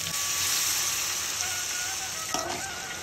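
Crab masala sizzles loudly in a pan as water is poured in, a dense bright hiss with a few spits and clinks near the end.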